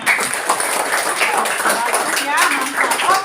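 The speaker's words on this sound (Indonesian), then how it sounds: "Tepuk tangan dulu untuk kita semua." Fourth-grade children clapping hands together in a classroom, a quick burst of scattered claps mixed with children's voices and chatter.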